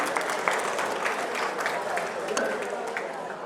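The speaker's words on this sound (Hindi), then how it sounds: "जोरदार तालियां" An audience claps steadily for several seconds, a dense patter of many hands with some crowd noise underneath.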